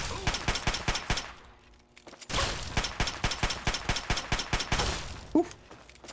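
Rapid automatic gunfire in Fallout 3, sharp repeated shots in quick bursts with a short pause between volleys, fairly close and loud.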